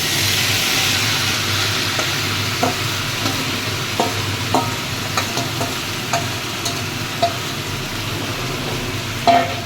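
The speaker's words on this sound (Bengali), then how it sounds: "মাংসটা কিন্তু আমি ঢেলে দিচ্ছি।" Marinated chicken meat, poured into a hot pan, fries with a loud, continuous sizzle and crackle, dotted with sharper pops and scraping stirs.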